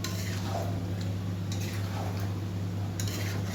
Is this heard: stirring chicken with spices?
yes